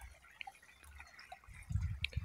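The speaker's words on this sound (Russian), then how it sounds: "какая-то коряга мешает ручью, и он журчит прям" A small spring stream trickles and gurgles as it pours over a snag, quiet scattered drips and bubbling that swell into a louder, low churning wash toward the end.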